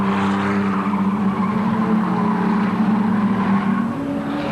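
Production race cars battle closely at Amaroo Park, engines holding a loud, sustained, tonal roar as they run nose to tail, with no voices over it.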